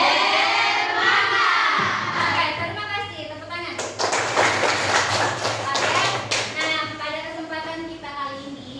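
Schoolchildren in an Indonesian classroom clap their hands together, a dense burst of applause in the middle rising over lively children's voices and a teacher talking before and after.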